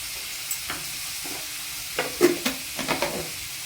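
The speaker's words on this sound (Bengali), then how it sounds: "সব কটা সবজি খুব ভালোভাবে ভেজে নিতে হবে" Carrots, potatoes and other vegetables for a navratan korma fry in a pan with a soft sizzle. A spoon stirs them in a few scraping knocks, with the clearest strokes near the end.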